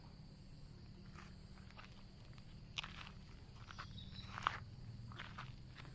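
Footsteps wander around the grounds of Wat Mae Tob Nuea temple in Mae Sariang, Mae Hong Son, Thailand: faint, scattered light steps over a steady low outdoor hum, with no talking.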